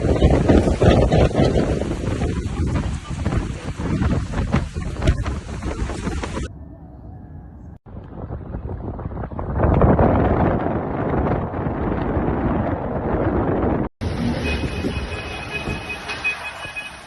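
Storm wind gusting hard along the Istanbul coast, a loud continuous roar buffeting the microphone, broken by abrupt cuts between stretches of blustery rushing noise with no voices.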